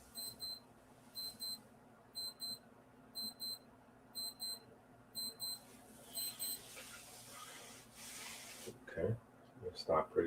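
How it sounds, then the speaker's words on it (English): A room alarm going off at 2 a.m., sounding in regular pairs of high electronic beeps that repeat steadily, then fall silent as background noise and brief clatter follow. "that is an alarm that I almost never hear because I am never in this room at 2 a.m."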